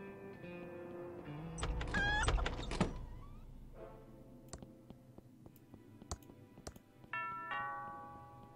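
A doorbell rings in the video game Thimbleweed Park, giving bright tonal chimes over quiet game ambience and scattered clicks, with the clearest ring sounding near the end.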